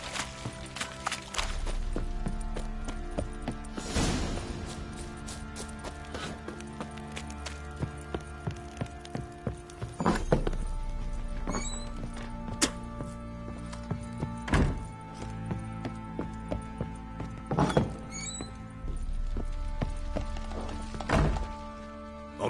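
Horse hooves clip-clopping at a steady walking pace under game music in The Witcher 3, with occasional heavier thuds.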